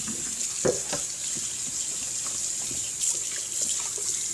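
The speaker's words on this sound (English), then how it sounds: "pour it right into the lid because you're going to give that a proper rinse off" Tap water runs into a Vitamix blender container and lid at a kitchen sink, a continuous splashing hiss with a few brief clunks of the container, close and steady.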